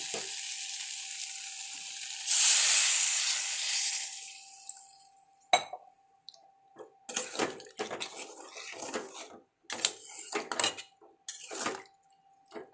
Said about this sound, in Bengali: তরকারিটা আমার হয়ে গেল ভাজা ভাজা একদম একটু জল দিয়ে দিই